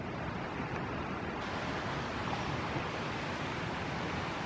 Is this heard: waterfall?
yes